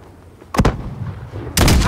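Two close, booming blasts of mortar fire in the Call of Duty: Modern Warfare video game, the first a sharp thud and the second a heavier, longer explosion a second later.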